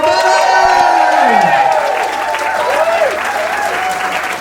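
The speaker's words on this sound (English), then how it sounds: "have a proper round of applause for Benny!" Loud, sustained applause from a comedy festival audience, with some cheering and voices mixed in, holding steady throughout.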